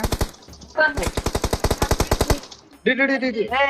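Video game gunfire from a shooting game, a rapid automatic burst of close, loud shots followed by a short pause, then more firing, with a voice talking briefly.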